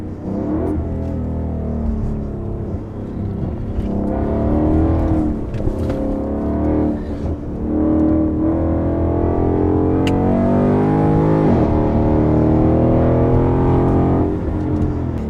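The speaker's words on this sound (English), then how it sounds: "We took the new Mustang around the Dearborn test track" A new Ford Mustang GT on the Dearborn test track rumbles loudly and close, its engine note rising and falling as it accelerates and eases off through bends, with tire and wind noise.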